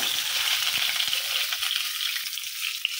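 A batch of eggs sizzles in hot oil in a home kitchen, making a continuous close frying hiss with small crackles. The sound eases slightly toward the end, and no one talks.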